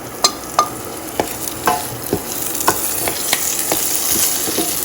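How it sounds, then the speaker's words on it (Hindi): Curry leaves fry in hot oil in a pan for stuffed mirchi pakora, a loud crackling sizzle broken by a run of sharp spoon scrapes and clacks as they are stirred, close up and with no talking. "इसको थोड़ा सा फ्राई करेंगे ताकि इसकी स्मेल आ जाए थोड़ी सी अच्छी सी। मैं करी पत्ता डाल रही हूँ।"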